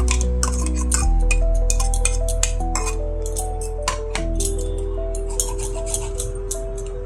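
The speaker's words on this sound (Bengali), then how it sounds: "এই চিংড়ি মাছের মাথাগুলো আমি ছেঁকে নিচ্ছি।" Prawn heads are strained through a metal strainer in a home kitchen while cooking prawns handi, giving close, repeated metallic clinks and taps with ringing overtones and light scraping, no talking.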